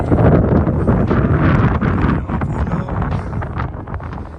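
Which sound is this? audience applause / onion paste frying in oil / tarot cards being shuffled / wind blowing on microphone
wind blowing on microphone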